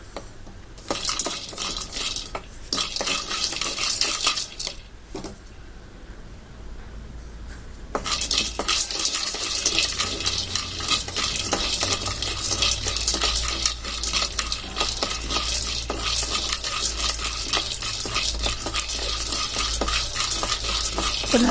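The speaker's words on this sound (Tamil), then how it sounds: "இதோட நம்ம இப்போ தோலெல்லாம் எடுக்கணுன்றக்காக சும்மா லேசாக சட்டியில் வறுத்துக்குவோம்." Peanuts dry-roast in a pan for idli podi, a spoon scraping and stirring them in a steady, continuous rattle with brief clinks of metal, loud and close throughout with no talking.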